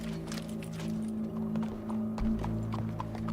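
Horse hooves clop at a steady walking rhythm in Red Dead Redemption 2, close and fairly loud over a low hum of game ambience, with a heavier thud near the end.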